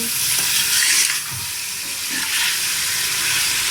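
Spices and meat sizzle loudly in a pan while being stirred for shaljam gosht, a bright continuous frying hiss with occasional scraping stirs and a brief dip after the first second.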